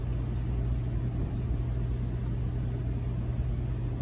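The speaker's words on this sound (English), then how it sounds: "That is wide open throttle right there." A Stihl or Echo string trimmer engine held at wide open throttle, a steady loud droning buzz with a low constant hum that runs unbroken and alone.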